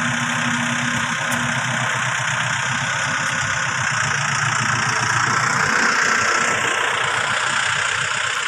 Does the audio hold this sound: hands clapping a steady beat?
no